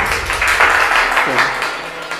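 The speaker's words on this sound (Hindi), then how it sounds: "बजाइए, ताली बजाइए सब लोग।" A class full of people claps hands at a Teacher's Day award ceremony. The clapping is a quick, steady patter of many hands, fairly loud and close, with a voice briefly heard over it.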